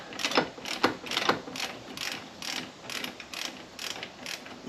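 Ratcheting on a nut at the fan belt pulley of a 1937 Austin 7, on a crankshaft with damaged threads: steady, close, repeated clicking strokes at an even rhythm, with no talk.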